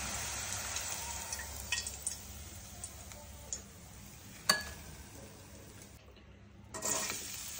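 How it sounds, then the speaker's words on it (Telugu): Green chilies frying in hot oil for a catering-style cashew okra fry, a steady soft sizzle with occasional stirring clinks and ticks, briefly dropping out near the end before resuming. "పచ్చిమిర్చిని ఇలా వేయించుకోండి"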